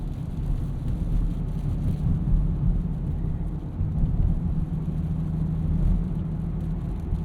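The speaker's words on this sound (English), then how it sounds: "You guys get some nice ASMR here with this freezing rain or whatever's going on." Inside a 2024 Land Rover Defender 130 driving through freezing rain, a steady low road and engine rumble mixes with a constant hiss of precipitation on the body, with no talk.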